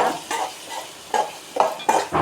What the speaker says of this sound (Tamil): இதை ஒரு தடவை நல்லா கலந்து விடுங்க.